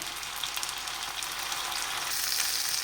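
Steady, close sizzling of onion frying in hot oil, a dense crackling hiss that grows slightly louder throughout.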